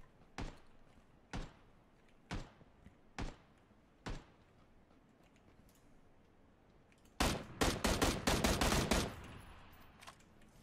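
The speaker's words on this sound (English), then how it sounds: "someone was shooting at that guy" Gunfire in the battle-royale game PUBG: five separate shots spaced about a second apart, followed by a rapid, louder burst of automatic fire, all fairly distant and with no talking.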